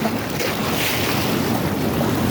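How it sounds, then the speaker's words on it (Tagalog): Rising sea waves surge and wash continuously at high tide, heard up close as a broad, steady roar under heavy wind buffeting the microphone, with no talking. "Lumalaki yung alon na."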